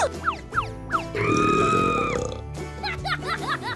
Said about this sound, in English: He eats so much that he burps.